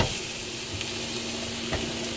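Shrimp stir-frying steadily in a hot pan in a van kitchen, a continuous crackling hiss with occasional stirring scrapes, close and fairly loud.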